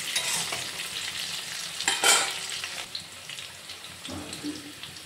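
Potatoes fry in a pan for a Bengali chicken kosha and are stirred, giving a continuous close sizzle with brief scraping bursts and no talk.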